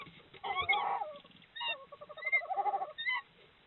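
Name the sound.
tawny owl calling at nest with owlets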